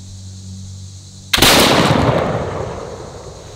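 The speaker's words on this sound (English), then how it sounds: "So we are firing the Swiss 2F out of the horn first, and then we'll fire the 1F in comparison." A flintlock smoothbore loaded with Swiss 2F black powder fires a single loud, booming shot outdoors, with a sharp onset and a long rumbling decay that fades over several seconds.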